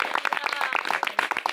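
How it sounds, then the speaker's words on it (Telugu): A church congregation claps in a dense, irregular burst of many hands, close and lively, with faint voices mixed in. "అలా అనుకున్న వాళ్ళందరూ కూడా దేవునికి ఒక్కసారి చప్పట్లు కొడుతూ దేవుని మహిమపడాలి"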